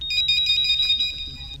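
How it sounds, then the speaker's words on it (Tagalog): A telephone rings with a bright electronic ringtone, a warbling repeated tone that sounds close and clear, with no talk over it. "Ang telepono. Sabton ko ini."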